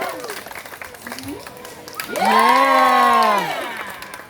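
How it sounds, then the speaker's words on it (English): Audience applause and cheering at a clown's sideshow, scattered clapping at first, then a loud surge of voices whooping and shouting together for about a second before fading, with a short spoken word early on. "Do it by round of applause."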